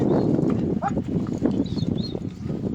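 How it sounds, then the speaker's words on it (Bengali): Horse hooves pound in a rapid, irregular clip-clop during a training race, fairly close and loud, mixed with crowd and outdoor noise and brief calls in the background. "ভালো স্পিড নিচ্ছে ঘোড়াটা"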